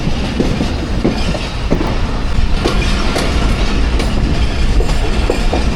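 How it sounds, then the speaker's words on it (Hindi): The 42 Down Karakoram Express passenger train rolls along, a loud continuous rumble with steady rhythmic clickety-clack of wheels over rail joints throughout. "ये 42 डाउन कराक्रम एक्सप्रेस काफ़ी लेट चल रही है आज भी।"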